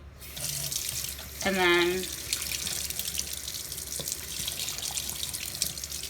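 Tap water runs steadily into a sink while a synthetic makeup brush is rinsed, a continuous splashing hiss with a brief spoken remark partway through.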